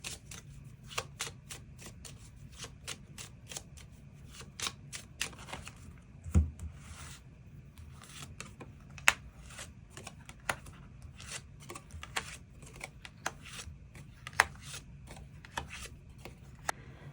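Tarot cards are shuffled and drawn by hand, giving soft repeated riffling and sliding with sharp card snaps and taps at irregular intervals, close and quiet, with no talk.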